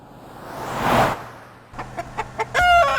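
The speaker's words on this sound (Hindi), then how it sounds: "अरे मुर्गे बॉस, तू अकेला इन सब के बीच इतनी सारी मुर्गियों को कैसे संभालता है?" A rooster among a flock of hens gives short clucks and a brief crowing call, near and fairly loud, after a swell of rushing outdoor noise.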